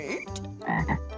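A frog croaks in a few short, throaty bursts close up, deep and resonant, alone with no talking, set within a children's music class activity about frogs.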